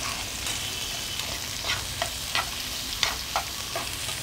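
Sliced onions frying in hot oil in a pan while being browned for Ahmednagar misal pav, a dense steady sizzle broken by soft rhythmic stirring scrapes, close and alone with no speech.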